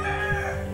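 A Kadaknath rooster from Jhabua district in Madhya Pradesh, a black-fleshed native breed, gives a short crow, loud and close, with a steady hum of background noise beneath it.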